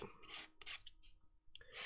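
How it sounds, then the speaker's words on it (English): Plastic model kit part from a Bandai MG Sazabi being sanded flat with a sanding stick, gentle rasping strokes in several short bursts with brief pauses, close and fairly quiet. "Still sanding things flat."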